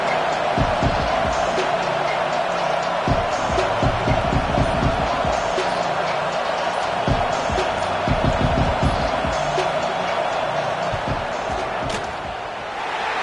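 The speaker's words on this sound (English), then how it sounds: "This crowd trying to do its part to get inside the kicker's head." Crowd noise fills a stadium during a field goal attempt in a college football video game, a constant loud roar with repeated sharp claps and thumps rising through it.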